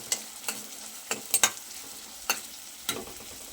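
Finely chopped onions stirred in a frying pan for a spiced okra and yogurt curry: sharp scraping clicks of a spatula every half second or so over a soft steady sizzle, close and fairly quiet.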